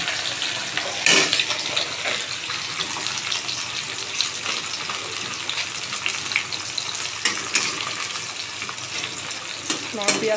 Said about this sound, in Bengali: তেলটা গরম হয়ে গেছে, দিয়ে দিলাম একটা তেজপাতা ফোড়নে। আর দিয়ে দিচ্ছি পেঁয়াজ কুচনো।